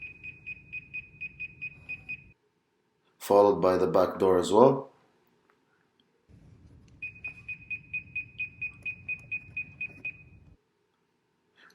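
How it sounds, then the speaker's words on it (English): An electronic door alarm triggered by a Hall effect sensor on a student-built door model sounds as a rapid series of steady high beeps, two bursts separated by a brief stretch of speech, with a low hum running underneath. "As soon as the door is open, an alarm is going to go off."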